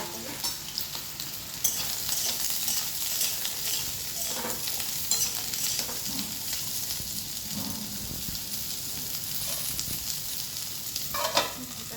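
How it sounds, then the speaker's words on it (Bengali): Ridge gourd and a little potato fry gently in a pan, a soft continuous sizzle with intermittent stirring scrapes and light clatter throughout, close and moderately quiet. "এই ঝিঙে আর একটুখানি সামান্য আলু, এটাকে আমি প্রথমে একটু ভেজে নেবো হালকা করে"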